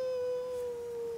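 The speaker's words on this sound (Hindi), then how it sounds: "बिल्ली नहीं, ये कोई कुत्ता रो रहा है यार।" A dog howls in one steady, mournful drawn-out tone, fairly close and clear, with no other sounds around it.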